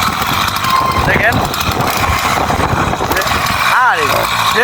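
A homemade model motorbike's small engine revs continuously, a loud, steady buzzing drone with brief pitch sweeps, close by and running under people talking.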